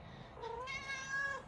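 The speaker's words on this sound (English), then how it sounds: "I have a cat playing with my leg." A cat in a garage gives two close, clear meows, the second longer and rising, over a low steady background hum.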